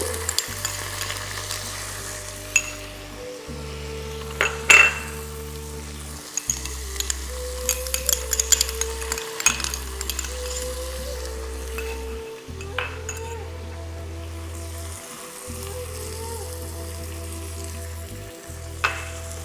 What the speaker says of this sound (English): we will add the garlic, ginger, and the turmeric, haldi. Okay. So we saute the garlic and ginger slightly.